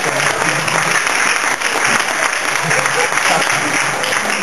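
An audience at a training seminar gives a full, continuous round of applause, loud and sustained from start to finish, with faint voices beneath.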